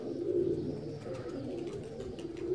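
A racing pigeon coos softly and steadily at close range, low rolling calls repeating throughout with no talking.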